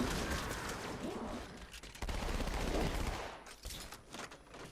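Rapid bursts of pistol gunfire in Halo 2 Anniversary, dense and continuous, with a fainter stretch before shots resume near the end.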